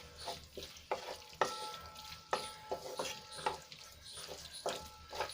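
Tomato sauce being stirred into a frying pizza-topping masala in a pan, with repeated scraping strokes of the spoon over a soft, steady sizzle, close and fairly quiet.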